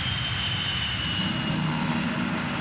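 Antonov transport aircraft idling on the ground with engines kept running, a loud, continuous propeller drone with a steady high whine, close and unbroken throughout.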